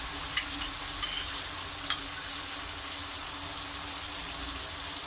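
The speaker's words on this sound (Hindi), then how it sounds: "अब हम इसमें ऐड करेंगे टमाटो पेस्ट" Yogurt chicken karahi sizzles steadily in a pan as tomato paste goes in and gets stirred, a continuous close frying hiss with a few faint utensil clicks near the start.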